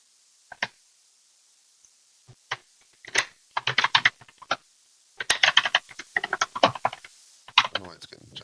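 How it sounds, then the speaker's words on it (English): Computer keyboard clacking close by in irregular bursts of quick keystrokes separated by short pauses, with faint voice traces underneath. "I can hear the keyboard clacking fine"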